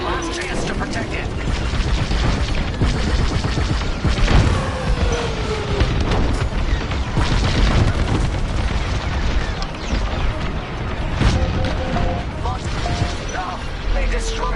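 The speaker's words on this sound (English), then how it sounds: "No, they destroyed the Corvette." A Corvette blown up in the Star Wars Squadrons space-combat game, with a continuous loud rumble of blasts, booms and laser fire and heavy low-end roar, while voices talk over the action.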